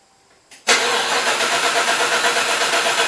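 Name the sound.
supercharged LS1 engine cranking over without fuel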